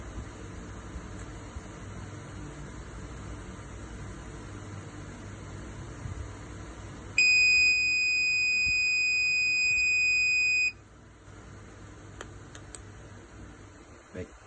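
A steady high-pitched electronic buzzer tone sounds continuously for a few seconds against a background hum, then cuts off abruptly.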